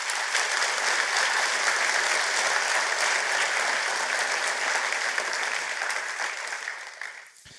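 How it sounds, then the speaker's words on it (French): Conference audience at Forum PHP applauds the organizing team during an opening keynote, a dense, even roar of clapping that holds steady and then tapers off near the end. "Donc déjà, vous pouvez les applaudir pour les encourager sur ces 2 jours."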